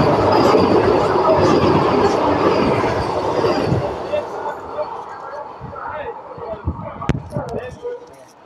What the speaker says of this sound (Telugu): సో వందే భారత్తో క్రాసింగ్ అయిపోయింది